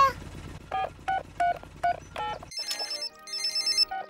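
A cartoon telephone rings in Peppa Pig: several short, bright electronic rings in a steady rhythm, followed by higher warbling tones, clear and close with no speech over it.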